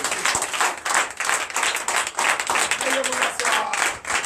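A church congregation at a Sunday worship service in Comè, Benin applauds in a dense, steady wave of clapping, with a preacher's amplified voice speaking over it.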